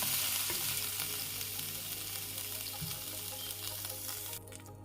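Bitter-tasting vegetables sizzle steadily in oil in a kadai. The loud, even frying hiss runs unbroken with no talk and drops off slightly right at the end.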